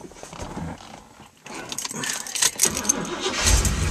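A 1976 Corvette Stingray with a 350 V8 cranks briefly and catches, firing into a rough, loud idle that builds and rumbles close by.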